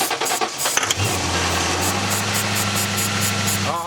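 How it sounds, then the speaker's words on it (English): Car that had sat for years, fed starter fluid, cranks with jangling keys for about a second, then fires and holds a steady close idle until the end. "we're gonna go try to start the car, and I'm gonna add starter fluid"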